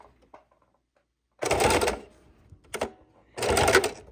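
A sewing machine running a straight stitch through quilted fabric layers for a quilted book bag, in two loud mechanical bursts separated by a short pause and a brief whir, near and clear with no talk over it.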